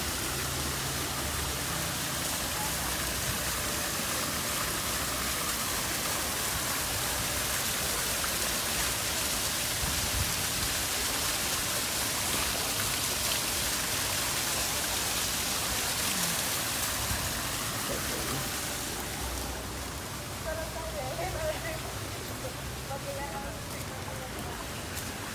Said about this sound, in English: You cannot get a better view of the waterfall.